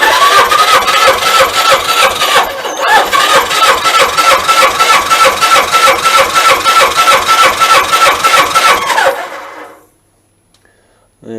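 A Suzuki GS1000 motorcycle engine cranks on the starter at full throttle during a compression test, a loud steady rhythmic chug for about nine seconds before stopping abruptly into near silence.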